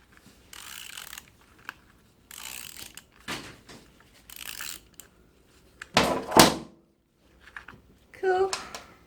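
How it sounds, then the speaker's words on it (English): A ratchet turning a socket on a 2006 KTM 640 LC4 engine during an oil and filter change, a series of soft clicking ratchet strokes in short bursts, with people talking in between. "this will just ratchet, so you can just keep it coming back"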